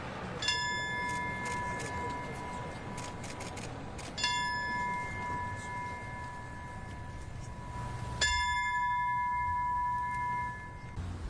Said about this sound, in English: Interim Police Chief Dominic Choi ringing 10 bells to commemorate the 9/11 terror attacks.